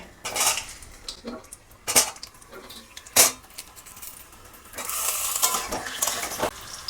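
Potato pieces dropped one by one into hot white oil in a pan for stuffed aloo dum bring sharp clinks and splashes at intervals, followed by a louder, steady frying sizzle with utensil clatter.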